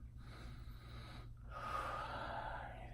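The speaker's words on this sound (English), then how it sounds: "breathing in," A person inhales deeply during a progressive relaxation exercise, a long airy breath that swells after a brief pause, close and fairly loud over low hum.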